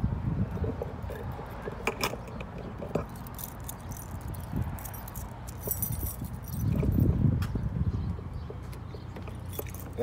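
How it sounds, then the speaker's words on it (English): Keys jangling and clinking in bursts during a search for the right one inside a church, close and moderately loud, with rustling and a heavier rattle partway through and no clear talk. "That's the wrong damn key"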